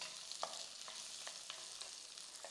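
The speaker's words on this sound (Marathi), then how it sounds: "फरसबी आणि गाजर एकाच साईजचेच आपण कापलेले आहे त्यामुळे ते दोन्ही एकत्र फ्राय करू शकतो" Green beans and carrots stir-frying over high flame in a pan, a quiet steady sizzle broken by light periodic scrapes and taps of a spatula.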